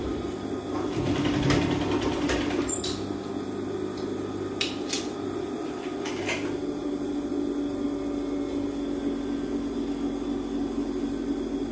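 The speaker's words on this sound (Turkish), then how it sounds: "şöyle bir dikiş atacağım ki buradaki düz" Sewing machine stitching a bias seam on a satin blouse, a steady mechanical hum running continuously at moderate level with a few brief higher clicks near the start.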